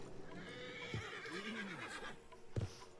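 Horse in Red Dead Redemption 2 gives a rising and falling whinny in the middle, with a couple of hoof thuds and handling noises around it, moderately close with no talking.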